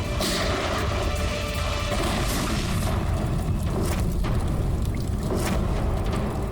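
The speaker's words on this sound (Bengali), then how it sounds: "যেই ব্যাগ থেকে এই নোটগুলো বাইরে পড়লো, বম ট্রিগার হয়ে গেল।" A booby-trap bomb going off in a Bengali crime TV drama, a dense, sustained roar of blast and crashing debris that fills the scene at full loudness without letting up.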